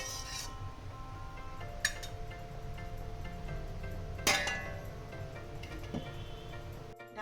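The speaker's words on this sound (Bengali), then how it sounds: "এবার আমি এটা ঢাকনি দিয়ে ঢেকে" A metal lid is set over a pot of simmering cholar daal kofta curry, giving a bright clink and a short scrape, plus a few lighter taps against a quiet kitchen hum.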